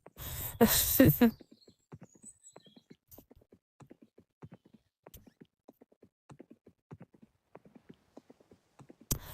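Horse hooves clip-clop at a steady walking rhythm in the Second Life virtual world game, a long run of light, evenly spaced clops after a brief louder burst at the start.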